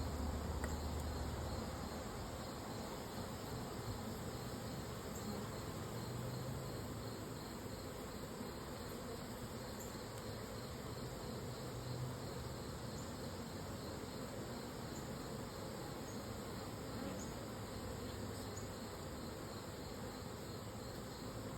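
Honeybees hum in an opened hive during an inspection, with small hive beetles present, as a faint, steady, continuous buzz with no talking.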